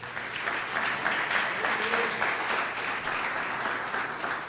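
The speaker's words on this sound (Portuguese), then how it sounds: "Aplauda o Senhor." Sustained applause from a church congregation, steady clapping filling the room without a break.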